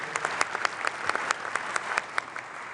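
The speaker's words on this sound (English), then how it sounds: "Let's give him another round of applause" Applause for Arsène Wenger from the audience at a pre-World Cup FIFA gathering in Vancouver: steady, fairly distant clapping with sharp individual claps over a soft crowd wash, no talk.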